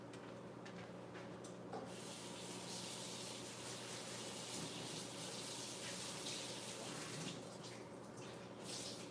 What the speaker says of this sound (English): Let me rinse these towels out.